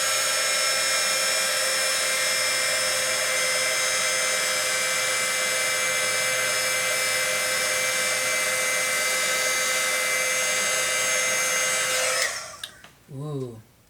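A heat tool blows steadily and loudly up close, a constant hot-air whir melting embossing powder for about twelve seconds before it cuts off, followed by a brief voice.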